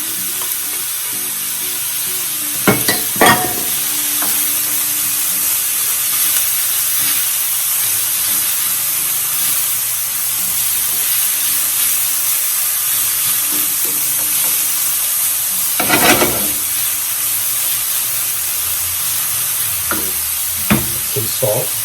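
Celery and carrots fry for a meatloaf in a steady, loud sizzle that fills the pan, broken by a few sharp stirring scrapes and knocks along the way.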